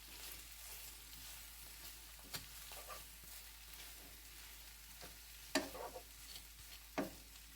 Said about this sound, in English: You're just browning it up.